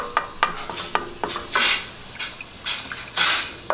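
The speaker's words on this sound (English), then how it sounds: "mash this up, and we're going to mix in the tomato paste until it's basically fully dissolved" Tomato paste is mashed and stirred in a sauté pan, giving a series of short scraping and tapping strokes with a few longer hissy sizzling swells, close up, with no voices.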